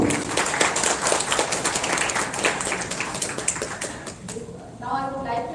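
Audience applause at an award ceremony during a film festival, with lively, crisp clapping for several seconds that thins out as a voice starts talking.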